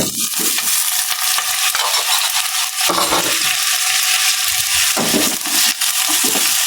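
Boiled pork belly (liempo) for dinuguan drops into a hot pan and sizzles loudly, a steady close hiss broken by stirring scrapes and clatters.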